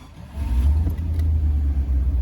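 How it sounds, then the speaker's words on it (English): A Land Rover 90 V8 station wagon engine fires up and settles into a deep, steady, close idle rumble after a brief cranking start, with no talking. "Starts nicely, nicely set up V8 on this one."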